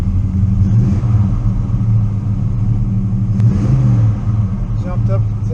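A truck engine idles with a deep rumble and gets a light blip of throttle partway through, the pitch rising briefly before settling back, while someone talks over it.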